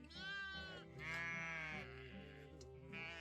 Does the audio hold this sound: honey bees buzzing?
no